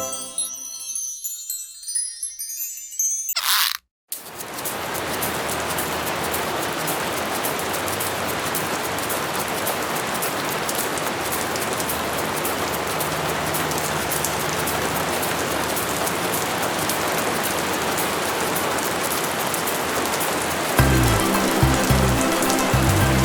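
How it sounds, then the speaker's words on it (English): Steady rain falls for about twenty seconds, a dense even hiss of drops on surfaces, preceded by a brief burst of music and ending as a light tinkling tune comes in. "It's raining."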